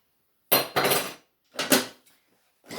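Metal serving spoons and other kitchen utensils clatter together in a kitchen drawer, in three short bursts of rattling and clinking with brief pauses between, fairly close and loud, no voices.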